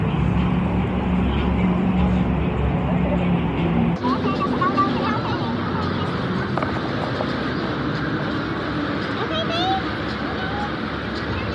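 A car is driven by a first-time driver, with a steady engine and road rumble throughout and a shift in the noise partway through, while people talk over it.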